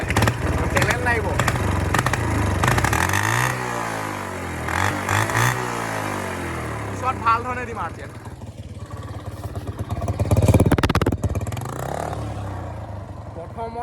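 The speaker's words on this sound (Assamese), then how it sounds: "এক্সেলডাল এতিয়া মই ফুল দি লৈছোঁ" A motorcycle engine idles and revs close by while someone talks over it, then the throttle is opened fully in one loud, rising roar near the end.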